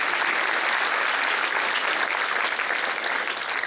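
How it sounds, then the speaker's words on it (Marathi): Audience clapping steadily at a memorial lecture series, a dense, continuous wash of applause filling the hall for several seconds with no voices over it. "टाळ्या वाजवा ना,"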